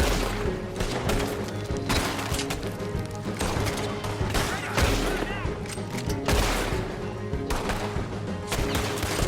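Gunfire in a Red Dead Redemption 2 shootout, with dense repeated shots and heavy bursts in quick succession, loud and close, over a continuous battle din.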